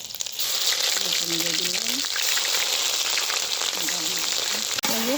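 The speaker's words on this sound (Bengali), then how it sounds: "মাংস চুলাই দিয়ে দিচ্ছে।" Meat hits a hot wok already sizzling with bay leaves, cumin and garlic, a loud, continuous close-up frying hiss with brief voices talking over it.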